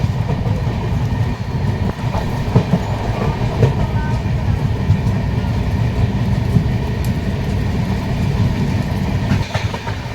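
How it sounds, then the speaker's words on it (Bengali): Onboard the Kamakhya–LTT Karmabhoomi Express just after leaving NJP, the train rumbles steadily on its rails with a continuous low roar and faint clickety-clack from the wheels throughout. "এনজেপি থেকে ট্রেন ছেড়ে দিয়েছে,"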